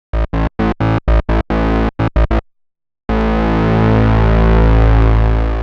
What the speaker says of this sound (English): you start off with a saw wave like this